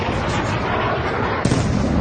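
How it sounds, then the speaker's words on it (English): Explosions from Iranian missile air defense fire, a continuous roaring rumble of distant blasts with a sharper, louder burst near the end. "We hear several loud explosions, and we see this large ball of light flying through the sky, and then it slams into the ground and explodes."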